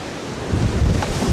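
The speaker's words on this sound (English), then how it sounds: "hope that the barn doesn't blow away because it is crazy windy out here" Strong wind gusting outdoors beside a barn on a hot day, a short burst of roaring, buffeting rush battering the microphone, loud and unbroken throughout.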